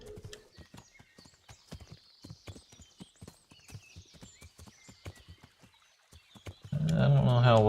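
Horse hooves in the video game Kingdom Come: Deliverance clip-clop in a steady walking rhythm through a forest, crisp and close, before a loud burst of noise cuts in at the end.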